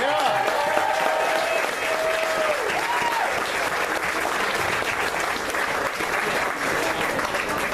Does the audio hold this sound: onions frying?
no